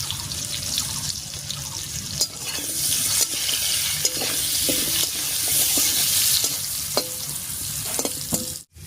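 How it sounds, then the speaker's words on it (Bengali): Pumpkin frying in hot oil while being stirred, for a pumpkin and masoor dal dish: steady close sizzle with scraping stir strokes and light clinks throughout, no talk. "তেলের উপরে মিষ্টি কুমড়ো দিয়ে একটু নাড়িয়ে নিয়েছি"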